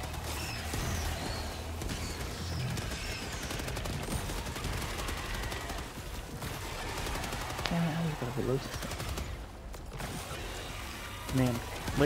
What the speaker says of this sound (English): laser assault rifle is the way to fucking go, man. It's super fun. Sounds pretty nice.